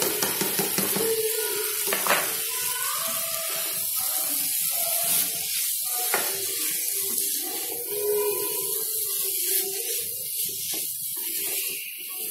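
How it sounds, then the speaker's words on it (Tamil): Potatoes and soya chunks stirred into a thick tomato gravy, with scraping, clinking spoon strokes and a soft sizzle running close and steady throughout. "இப்போ நம்ம உருளைக்கிழங்கையும் மீல் மேக்கரையும் இதில் ஆட் பண்ணிக்கலாம்."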